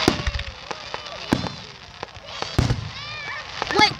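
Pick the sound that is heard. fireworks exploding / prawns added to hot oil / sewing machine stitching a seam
fireworks exploding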